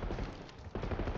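Gunfire in a shooter video game, a quiet, muffled stretch of rapid shots with one sharper crack standing out near the end.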